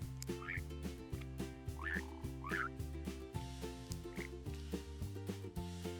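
Frogs by a river give several short croaks and chirps scattered over rhythmic background music, moderate in level and fairly close.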